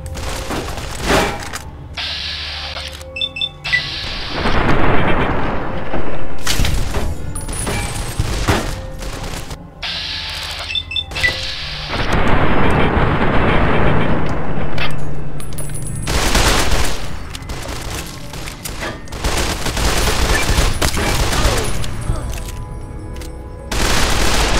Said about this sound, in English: let's get an assault carbine now, that should finish him off